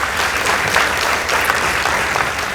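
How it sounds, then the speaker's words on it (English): Dense, steady applause fills the room from the audience at a school debate after the final score is announced, a wash of many hands clapping together without speech. "Let's give them a round of applause."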